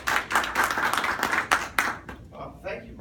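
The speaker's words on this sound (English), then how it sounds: "I'm going to bring Joe up if we could give him a big round of applause" Audience clapping to welcome a speaker at a networking boot camp, a dense burst of applause with sharp claps that thins out after about two seconds, with speech faintly underneath.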